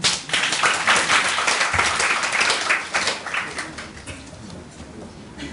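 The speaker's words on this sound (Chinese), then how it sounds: "掌声欢迎俊伟。" Welcoming applause for a speaker at a self-introduction meetup: a dense burst of clapping from a small crowd that starts loud and gradually thins out.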